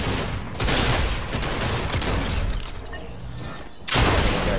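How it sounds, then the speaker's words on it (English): Flare gun shots in a shooter video game, a dense continuous burst of blasts and crackle lasting several seconds, with a sharp louder hit near the end. "You're really killing people with a flare gun, aren't you?"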